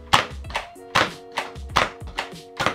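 Pump action of a Nerf Elite 2.0 Flipshots Flip-8 toy blaster being racked repeatedly, six crisp plastic clack-and-slide strokes in a steady rhythm, close and clear with no talking.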